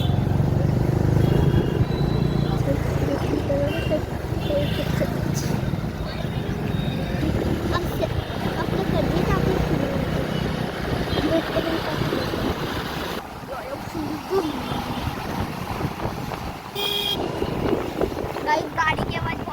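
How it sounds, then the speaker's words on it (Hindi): Constant loud road noise surrounds a moving ride, with rumbling engines, whooshing wind buffeting the microphone and a few short horn-like beeps from passing vehicles near the end. A person talks over the din. "गाड़ी की आवाज़ बहुत आ रही है"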